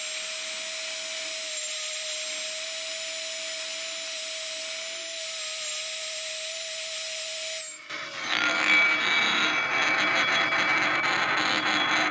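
A high-pitched air engraver whine spins steadily and loud at about 50,000 RPM, then shifts abruptly into a harsher, buzzing grind as it works, close by and alone.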